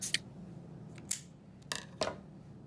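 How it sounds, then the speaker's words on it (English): Scissors cut string for a bow on a lavender wreath, giving four crisp close snips spaced unevenly over a quiet background. "So you're going to cut it, hold it there, and I'm going to cut off a good amount."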